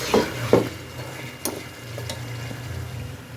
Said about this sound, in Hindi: ये इसके अंदर जो गोश्त था ना, उसको भी मैं भून रही हूँ दही डाल के